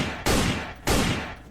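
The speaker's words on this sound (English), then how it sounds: "Wow, you actually shot all three." Two sharp, loud gunshots at a shooting range, spaced about half a second apart, each with a short booming tail.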